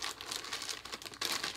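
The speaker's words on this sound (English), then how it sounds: "Let's unwrap this merchandise we got from the WWE shop." Close, crisp crinkling and tearing of plastic wrapping as a WWE Shop merchandise package with a T-shirt inside is opened, a continuous rustle that swells louder near the end.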